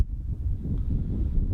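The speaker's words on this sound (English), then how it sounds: "There's some wind." Gusty wind buffeting the microphone outdoors, a brief low rumbling blast that swells and fades unevenly with no voices.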